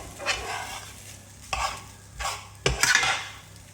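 Peas and rice sizzle while frying in a pan, with four distinct scraping stirs cutting through the steady hiss.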